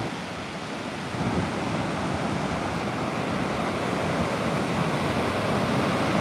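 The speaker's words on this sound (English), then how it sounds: "the wind in the ocean is so loud" Strong wind roars across the Oregon coast on a razor clamming outing, buffeting the microphone over a constant wash of ocean surf; the rumble swells a notch after the first second and stays loud and unbroken, with no talking.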